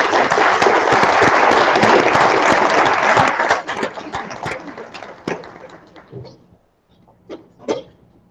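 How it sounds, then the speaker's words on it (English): At a school board meeting, the room applauds students with full, dense clapping for about three seconds, which then thins out into a few scattered claps and fades almost to silence. "please give our board a round of applause for the students"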